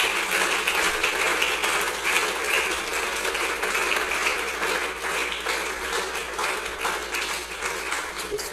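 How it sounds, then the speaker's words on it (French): Dense, continuous applause from a concert audience at a choir's anniversary concert honoring a conductor, sustained and steady at moderate loudness for several seconds without talk. "Et je vous demande quand même d'applaudir maestro Franz."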